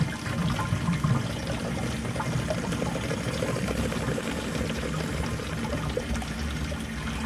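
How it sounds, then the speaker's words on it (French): Water and air bubbles drain steadily through a U-shaped siphon on an outdoor aquaponics tank, a continuous gurgling rush that holds at an even, fairly loud level with no talking. "On va peut-être entendre les bulles,"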